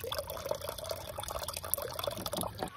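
Water pours from a rain barrel tap and splashes steadily for a few seconds, a continuous trickling flow heard close by with no talking.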